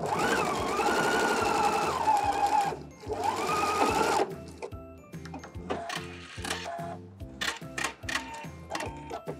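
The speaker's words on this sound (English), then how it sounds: "now while I'm sewing this, I'm just keeping the edge of my fabric lined up back here with the metal guide" Sewing machine stitching a fabric seam with the fabric edge held along a metal guide: a loud, steady run of rapid needle clatter, then a pause and a second run, followed by slower, uneven stitching bursts with a louder whir.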